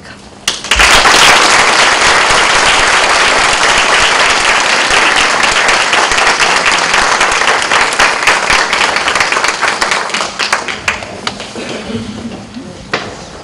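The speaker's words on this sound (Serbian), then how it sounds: "to potvrđuje i vaš aplauz" An audience at a Nurses' Day ceremony in Palanka breaks into loud, sustained applause. Dense clapping swells abruptly, holds for about ten seconds, then thins to scattered claps at the end.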